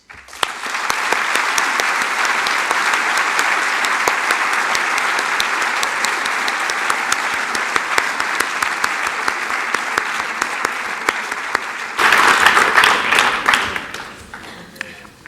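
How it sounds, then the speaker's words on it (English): Sustained applause from a large crowd at a 2015 school graduation ceremony honoring the graduates, steady and dense for about twelve seconds before swelling louder near the end and then fading. "please join me in a round of applause for our outstanding graduates"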